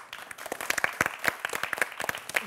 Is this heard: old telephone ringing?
no